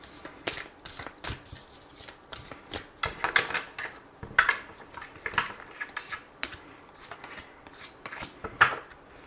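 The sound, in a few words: shuffling and drawing oracle cards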